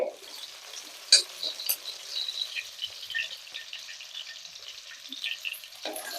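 Small onions sautéing in a pan, a light continuous sizzle with a few sharp spoon clinks and scrapes, close and moderately loud, no talking.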